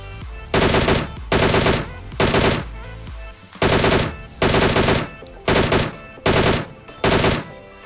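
Rapid automatic gunfire from a mobile shooting video game, coming in about eight loud, sustained bursts separated by short pauses, with no talking.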